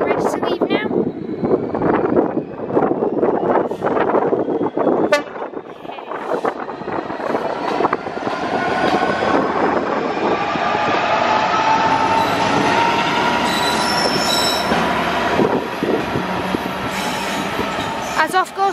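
A Class 66 diesel locomotive, 66044, pulls away from Crewe station with a heavy rhythmic clatter of wheels over rail joints, then a building engine drone and high metallic squeals as it gathers pace.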